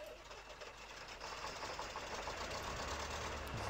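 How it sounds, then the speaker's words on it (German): A truck engine in the off-road driving game Spintires starting up, a steady rattling mechanical drone that builds slightly and runs continuously at a moderate level, with no talk over it. "Motor starten."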